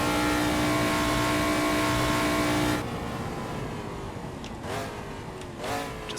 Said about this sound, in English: Just keeps on revving through the chase.